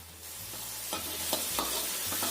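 Tamarind sautéing in a pan with a bright, continuous sizzle, punctuated by several quick stirring strokes at a steady pace, close by.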